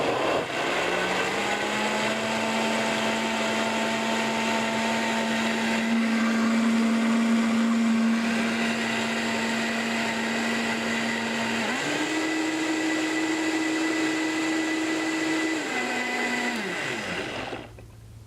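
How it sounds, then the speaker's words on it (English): Countertop blender whirring steadily as it purees soaked cashews into a creamy cheese ball filling, a loud continuous motor hum that shifts up in pitch partway through before winding down at the end. "if your blender's not super powerful, go a little longer"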